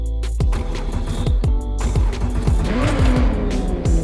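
A high-revving Lamborghini Aventador engine in the video game The Crew Motorfest roars loudly while tires squeal, with rapid gear shifts and revs rising and falling.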